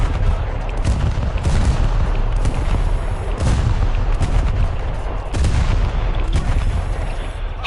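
Tank cannon fire from the War Thunder video game, a steady barrage of heavy booms and rattling gunfire that stays loud and dense throughout with brief surges, no talking over it.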